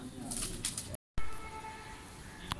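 A kaldumaa pigeon lands nearby with a brief flutter and soft cooing, amid outdoor background noise and a few sharp clicks.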